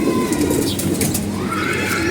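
A silver racing pigeon, recently home after a month away at a race and recovering from illness, coos in low, rolling phrases nearby, loud and continuous without speech.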